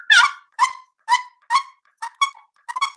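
A paddle dragged across a wooden turkey box call gives about seven sharp, raspy yelps in an uneven rhythm, close and clear against silence.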